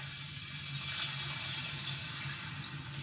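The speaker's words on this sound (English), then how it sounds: "Then we're going to add a little bit of water. And I'm going to start with about a cup." About a cup of water poured into a cooking pan on the stove, a steady hissing, splashing stream running for a few seconds, close and fairly loud, with no talking.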